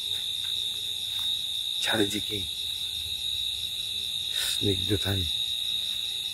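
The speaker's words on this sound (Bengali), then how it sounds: "চারিদিকে ঝিঝি পোকার ডাক।" A continuous high-pitched drone of crickets chirping on an autumn night in rural Bangladesh, steady and unbroken, while someone speaks briefly twice over it.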